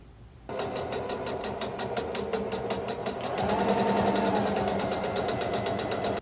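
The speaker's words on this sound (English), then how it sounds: "As I was sewing, I just made sure my fabric went right up to the edge of the tape" A sewing machine stitching a seam in cushion fabric for a papasan chair, the fabric guided along a tape edge. It starts after a short pause, then a rapid, even mechanical chatter runs loud and close, growing slightly heavier partway through.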